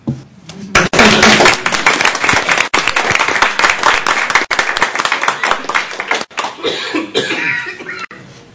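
Loud, close applause fills a school board meeting room, brisk clapping from a small group with a few sharp gaps and sporadic coughs mixed in before it thins out.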